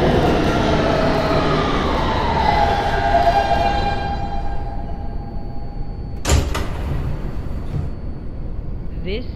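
A Roblox simulation of a Kawasaki R160B Siemens G subway train on the Crosstown Line, a steady rumbling run with a tonal motor whine that drops in pitch as it slows, then a sharp clunk near the end.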